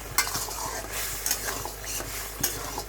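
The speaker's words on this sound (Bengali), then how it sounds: "ফেটে দিয়ে দিলাম নাড়াচাড়া করে আবার একটু মিশিয়ে নিচ্ছি" Beaten egg with spices being stirred in a hot pan, a utensil scraping and clicking against the metal in uneven strokes over a steady close sizzle, with no talking.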